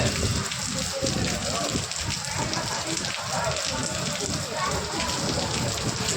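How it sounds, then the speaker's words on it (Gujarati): Heavy rain in Mehsana district, Gujarat drums on a surface in a close, continuous wash, with some muffled voices in the background. "બોલ જો વરસાદ ચાલુ હોય"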